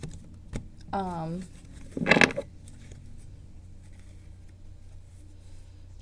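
A deck of tarot cards is shuffled during a reading, one brief, crisp riffle burst following a short spoken phrase, then near quiet.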